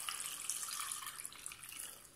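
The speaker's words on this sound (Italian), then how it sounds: "Aggiungiamo un bel litro d'acqua" Tap water runs steadily into a pot for a zucchini and carrot cream soup, about a litre poured in one continuous, fairly quiet hissing stream with no talk.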